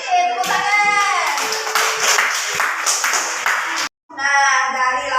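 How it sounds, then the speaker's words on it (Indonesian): An elementary classroom of children claps together in a dense burst of many hands, with children's voices and singing-like tones mixed in before a brief cut. "Tepuk tangan."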